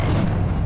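A Confringo fire spell explosion in the Hogwarts Legacy video game, a short, dense, low booming burst that fills the moment without any voice over it.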